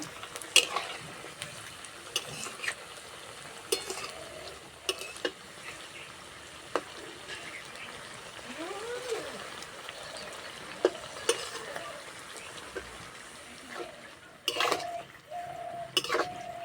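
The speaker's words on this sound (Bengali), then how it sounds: "হালকা বাদামি কালার করে ভেজে নেব।" Semolina pitha deep-frying in oil gives a low, steady sizzle, broken by sharp metallic clinks and scrapes of a utensil against the pan at irregular moments, plus a brief louder clatter near the end.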